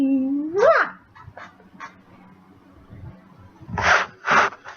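A puppy named Max gives a rising, high whimpering whine at the start, then a quiet gap with faint small sounds, and ends with two louder, breathy yips or barks close by.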